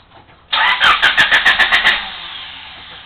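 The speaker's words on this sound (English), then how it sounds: "Makes it kind of hard to start." A 1988 Honda Accord engine cranks with about nine rapid starter pulses, then catches and settles into a steady run that fades, loud and close, with no talking.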